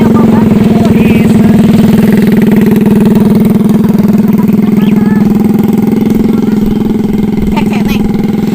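A motorcycle engine idles loudly and steadily nearby, with a constant throbbing rumble throughout and a few faint voices behind it.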